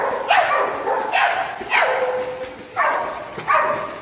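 Dog barking in a series of about five short, strained barks spaced roughly evenly, fairly close, with a hoarse, whining edge and no talk over it.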